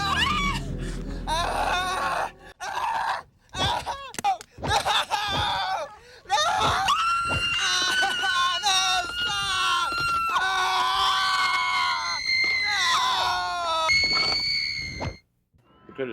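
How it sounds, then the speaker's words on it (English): A horrific shriek from Quiltface, the killer in the 2000 horror film Carnage Road: piercing, wavering high screams in repeated bursts, loud and close, with a low rumble at the very start. "he lets out a horrific shriek, alerting them to his presence"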